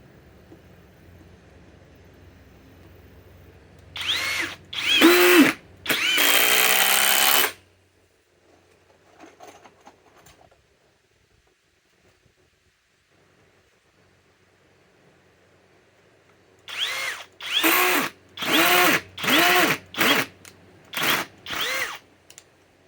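A cordless power tool, part of a comparison of FLEX, Ryobi and Ridgid lithium battery tools, drives 1/4 by 5 inch screws in loud separate bursts, two short and one long, then a lull and a rapid run of six short bursts.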